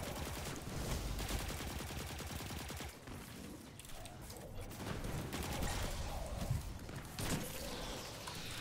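Enemy gunfire in Destiny 2 rattles steadily during a Legendary Lost Sector, continuous bursts of shots mixed with game effects, fairly faint and sustained throughout.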